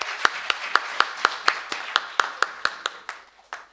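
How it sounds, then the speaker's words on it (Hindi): At a kavi sammelan poetry gathering, an audience claps in slow, regular unison, about a dozen crisp, evenly spaced beats that fade slightly toward the end, close and distinct with no talk over them. "एक बार जोरदार तालियां बजाइए"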